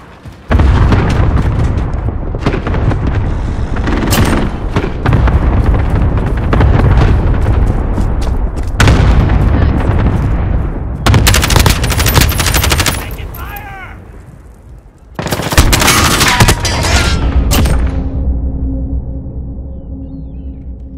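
Cluster strike in Modern Warfare, a video game: loud booming explosions and bursts of rapid gunfire come in several heavy waves, with short pauses between them and a fading rumble at the end.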